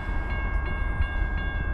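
A CSX freight train led by a 1999 AC44CW locomotive rumbles past close by, a steady heavy low roar with faint metallic ringing tones, continuous throughout.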